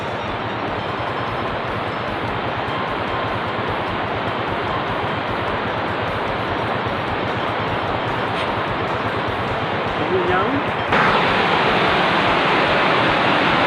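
Water rushing steadily over a weir, a dense continuous broadband roar that stays loud and even throughout, growing slightly brighter near the end.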